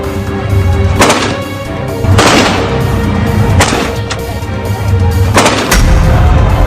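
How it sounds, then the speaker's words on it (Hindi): Several loud gunshots from Taliban fighters crack out in bursts in the street in broad daylight, sharp and echoing, with continuous rumbling and crackling between them. "बीच सड़क पर दिन दहाड़े तालिबानी आतंकी घूमते हुए गोलियां दाग रहे हैं"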